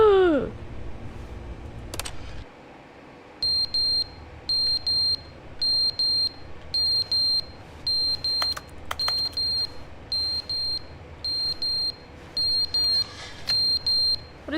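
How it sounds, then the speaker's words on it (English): Regular electronic beeping from The Stanley Parable video game, short high beep pairs repeating in a steady rhythm over a low background hum, with a couple of sharp clicks mixed in. "What is that beeping sound?"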